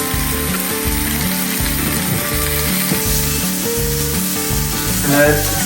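Beef steak sizzling loudly in a frying pan with ghee, a steady close crackle that runs continuously through the whole stretch with no talk over it.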